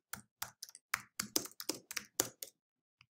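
Around a dozen crisp keystrokes on a computer keyboard come in an uneven, fairly quick rhythm, close and clear, then stop abruptly with near silence, with no talk.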